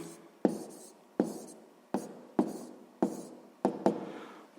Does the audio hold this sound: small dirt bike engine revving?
no